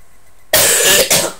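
A single harsh cough bursts out after a short quiet moment, followed quickly by a second rougher cough, close and loud.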